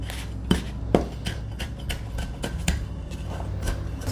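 Pie crust pressed into a pie tin with the back of a measuring cup, with a series of sharp metallic taps and scrapes at irregular intervals, close and fairly loud.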